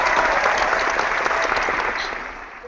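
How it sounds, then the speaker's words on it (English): Thunderous studio audience applause for Lavita, a guest on a Big Brother Canada recap show, a dense, even roar of clapping that tapers off slightly at the end. "Thunderous applause for Lavita."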